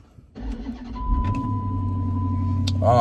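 A car engine with stock exhaust cranks over and catches, then settles into a steady, close-up low idle rumble.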